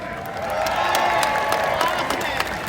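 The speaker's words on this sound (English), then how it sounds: "Let's give a cheer for Austin" A crowd cheers and claps at Stafford Motor Speedway before an SRX race, a steady wash of applause with scattered sharp claps and whoops, heard at moderate distance.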